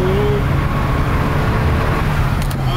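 Steady engine drone of an Abarth hatchback with passengers aboard, heard from inside as it drives, with a brief tonal whine early on and no clear braking sound.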